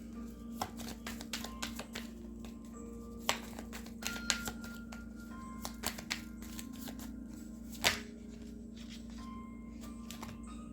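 Tarot cards shuffled by hand in a quiet room, a steady soft riffling and flicking with occasional sharper snaps of cards, close and fairly faint, with a low steady hum underneath.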